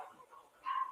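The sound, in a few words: neighbors' dog barking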